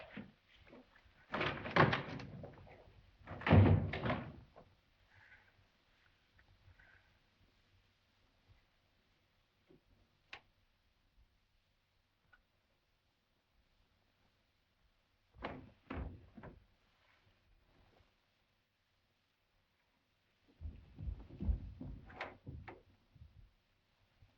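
A door creaks open and bangs shut in a quiet old 1943 film scene: a pair of loud thumps and rattles early, then softer clicks and another thudding close later, with long near-silent gaps between.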